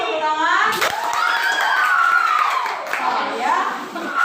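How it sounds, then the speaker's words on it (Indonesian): A class of sixth-grade primary school children clapping hands together in a classroom, brief and lively, with children's voices and shouts mixed over the clapping. "semua tepuk tangan"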